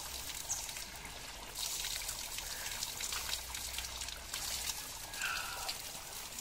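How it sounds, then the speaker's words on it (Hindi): Clear, filtered water trickles and seeps out of the rocks at a waterfall, a faint, steady hiss of running water with light splashy trickling, close by and continuous with no voices. "पता ही नहीं चल रहा कि ये पानी तनों से रिस के आ रहा है, एकदम बहुत ही साफ पानी है।"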